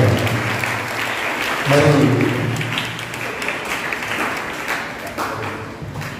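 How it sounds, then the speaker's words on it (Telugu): A church congregation at a Holy Mass claps loudly and continuously, a dense, sustained wash of many hands that swells briefly near the start, while a voice speaks over it. "గట్టిగా చప్పట్లు పెట్టాలి, గట్టిగా చప్పట్లు."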